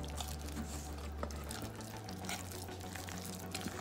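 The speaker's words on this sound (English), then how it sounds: "as you add the water, guys, you have to just judge it by add a little bit more" Water poured into batter for Jamaican fried fritters with red pepper, a continuous wet pouring and splashing close by over a low background rumble. No one speaks.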